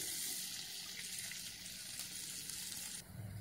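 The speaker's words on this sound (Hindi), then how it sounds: "अब ये पानी उबलने लग गया है," Hissing, bubbling water boiling in a pan on the heat, a steady soft rush that stays fairly quiet and drops off near the end.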